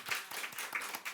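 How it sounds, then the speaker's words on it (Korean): A Sunday worship congregation claps briefly to welcome a newcomer, a quick run of rhythmic claps at moderate volume with no talking. "환영하고 축복하는 의미로 찬양의 박수"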